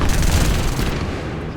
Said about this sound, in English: now my tanks are here and they're getting in the firefight